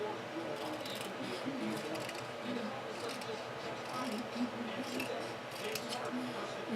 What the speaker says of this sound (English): cut a little piece of banner out like that